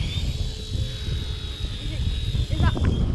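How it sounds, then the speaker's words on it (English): The propellers of an RC Era C138 remote-control helicopter whine in a steady, high-pitched tone that drifts slightly with speed, over windy rumble with voices talking nearby. "I can even listen to propellers slowing down, speeding up, slowing down, speeding up."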